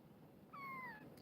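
A kitten gives one short, squeaky meow, close and clear over a quiet room, with no one talking.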